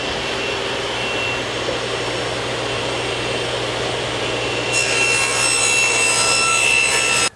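A SawStop table saw with a tilted blade rips a 45-degree bevel through wood, a loud steady whine and rush of cutting that brightens partway through, then stops abruptly at the end.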